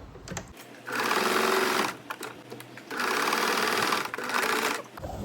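Sewing machine stitching a blouse in close, steady bursts of rapid mechanical whirring, two long runs about a second each separated by brief pauses and light handling.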